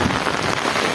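Heavy rain pouring down in a thunderstorm, a dense, loud, unbroken hiss of drops striking surfaces, with no voices over it.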